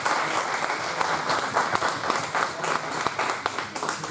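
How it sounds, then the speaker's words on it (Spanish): Sustained audience applause at an architecture conference on identity, modernity and the vernacular, dense steady clapping from a large crowd throughout. "Aplausos."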